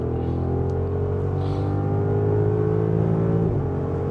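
A 2025 Audi SQ8's 507 hp V8 roars steadily under hard 100-200 km/h acceleration on the Autobahn, its deep growl climbing in pitch before a brief dip near the end.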